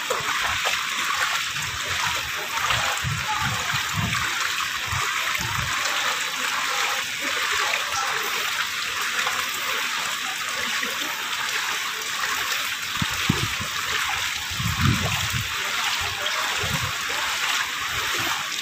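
Typhoon floodwater rushes through a flooded subdivision of homes in Marilao, Bulacan, a continuous loud splashing gush with occasional low thumps, no one speaking.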